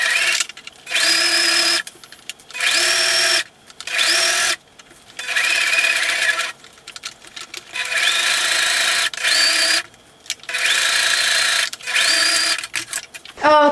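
A sewing machine stitching the seams of a slouchy tote bag runs in loud, close bursts of a second or two, with short pauses between runs.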